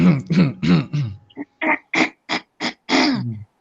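A voice mimics coughing with a series of short, sharp bursts, several quick coughs followed by a few more spaced ones, close and fairly loud.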